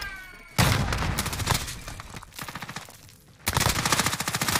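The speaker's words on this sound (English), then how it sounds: "I'm taking fire here" Call of Duty: Warzone gunfire comes in loud sustained automatic bursts, two long rapid volleys with a pause between them, close and dominant, with no talk.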